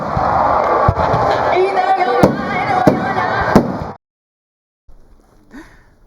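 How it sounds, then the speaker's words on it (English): Fireworks crackle and bang over a loud, dense crowd roar at a horse riding event, with several sharp reports standing out before the noise cuts off suddenly into near silence. "The event was a beauty to watch, especially during the display of fireworks."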